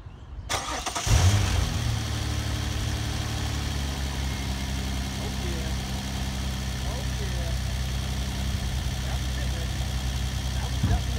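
A 2004 Nissan Maxima with aftermarket exhaust cranks over and catches after a brief starter whir, then settles into a steady, close, loud idle with a low exhaust drone that holds unchanged to the end.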